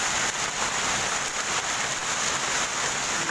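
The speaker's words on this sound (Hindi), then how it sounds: "पूरे पार्क में ओले, देखो सूखे ओले पड़ रहे हैं" Dry hailstones pelting down across a park in Delhi during a severe hailstorm, a dense steady patter with no pauses, close and fairly loud throughout.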